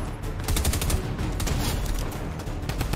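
Rapid automatic gunfire in Fortnite, a dense stream of sharp shots firing in quick succession for several seconds, loud and close with no talk over it.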